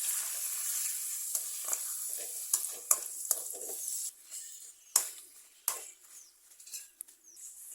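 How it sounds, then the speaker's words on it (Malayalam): Pappadam frying in hot coconut oil gives a soft, close sizzle dotted with sharp crackles and the scrape of a utensil, quiet overall and without speech. "എണ്ണ ചൂടായി കഴിയുമ്പം നമ്മുടെ കട്ട് ചെയ്ത് വെച്ചിരിക്കുന്ന പപ്പടം നമുക്ക് ഇതിലേക്കിട്ട് ഫ്രൈ ചെയ്തെടുക്കാം"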